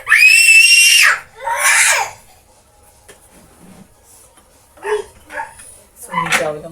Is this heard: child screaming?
yes